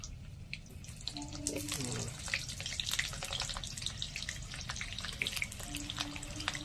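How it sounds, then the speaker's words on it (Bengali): Potatoes fry in hot oil in a wok during village cooking, giving a continuous crackling sizzle with a brief voice heard under it. "আজকে তেলে আলু ভাজবে নাকি? হ্যাঁ, আলুটা ভাজবো।"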